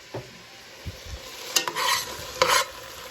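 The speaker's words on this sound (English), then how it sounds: "So we're going to just stir this up and let it saute down." Cabbage sautéing in a pot, with a few soft knocks followed by bursts of spoon-stirring scrapes over a steady low sizzle, close and fairly loud.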